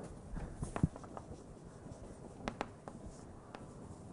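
Chalk or marker writing on a board during an abstract algebra lecture, faint scattered taps and short scratchy strokes in a quiet room, with a few sharper knocks.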